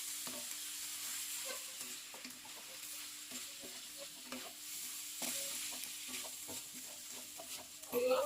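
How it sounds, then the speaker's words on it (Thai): Fried rice with fermented pork being stir-fried in a pan: a continuous soft sizzle with repeated scraping and tossing strokes of a spatula at an irregular rhythm, fairly close, with a louder clatter near the end. "ผัดให้ทุกอย่างเข้ากันเลยครับ"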